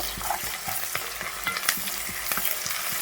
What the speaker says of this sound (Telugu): ఇది పచ్చి వాసన పోయేంత వరకు అయితే వేపుకోవాలి